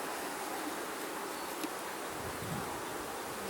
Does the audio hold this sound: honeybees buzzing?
yes